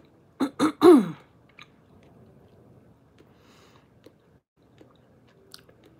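A person gives three quick, harsh coughs close up in rapid succession, followed by a long stretch of near silence with only a few faint soft ticks.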